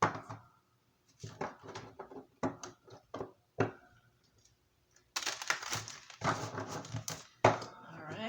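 A heavy tarot card deck being shuffled in a run of short riffling bursts, followed by denser, louder continuous shuffling toward the end.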